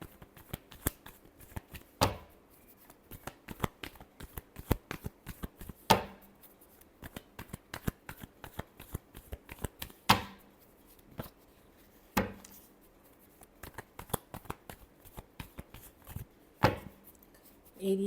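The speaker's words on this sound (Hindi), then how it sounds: "Last shuffle." Tarot cards being shuffled by hand, a steady run of crisp riffling flutters broken by a few sharper slaps and pauses, close and fairly quiet with no talking.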